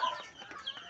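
Chickens cluck in a short, busy burst at feeding time, several birds calling close together with no one speaking.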